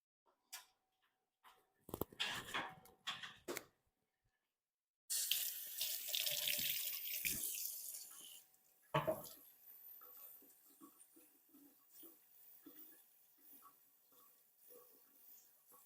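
A household tap runs steadily into a sink for several seconds as a container is refilled for watering houseplants, a loud continuous rush with a brief pause and clatter, then quieter trickling and small knocks.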